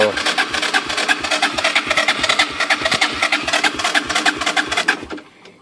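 A 1984 Honda 200 ES engine cranks on a weak battery, a fast, uneven chugging rattle, close and loud, slowing and trailing off at the end, with voices talking over it.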